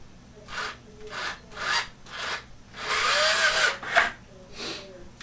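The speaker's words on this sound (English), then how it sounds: "We'll drill one more here." A power drill bores a hole while mounting 24V LED strips, heard as several short bursts of grinding, whirring drilling, one longer bite in the middle and quick stops between runs, close and fairly loud.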